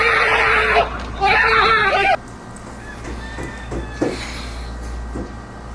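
A recording of a person screaming plays back, with two loud, sustained, shrill shrieks filling the first two seconds before dropping to a quieter background with faint voices.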